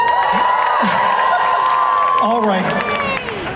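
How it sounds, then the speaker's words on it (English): An audience cheering and whistling at a Yellowjackets Q&A panel during the Scaradise 2025 fan convention, a dense, loud, steady roar of crowd noise with a voice speaking briefly at the end. "Just look at where my hand is and just cheer."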